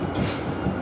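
An A Class tram runs along the St Kilda light rail line, a rumbling rolling sound of wheels on track heard up close for a moment.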